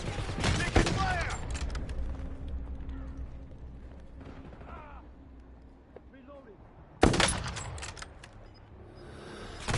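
Gunfire in the shooter game Warzone comes as loud bursts of rapid shots at the start and again near the end, with quieter in-game sounds and a voice talking in between.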